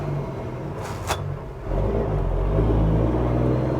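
A Peterbilt 379 truck engine through a gear change: a steady rumble dips briefly, then the diesel pulls back up to a louder, deeper drone.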